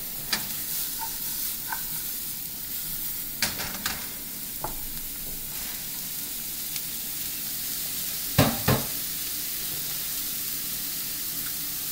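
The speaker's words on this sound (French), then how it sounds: "On fait revenir le tout environ 2 minutes." Bell pepper and garlic sautéing in a pan for a Niçoise tuna pâté, with a steady soft sizzle throughout and a few sharp clinks and scrapes of stirring, loudest near the end.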